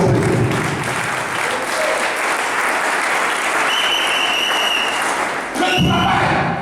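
A church congregation bursts into loud, sustained applause to acclaim Jesus, dense clapping mixed with crowd cheers, briefly dipping near the end before surging again.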